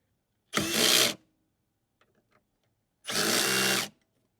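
A power ratchet tightens bolts on a Rivian gear tunnel slide, giving two separate whirring bursts of about half a second and one second with near silence and a few faint clicks between them.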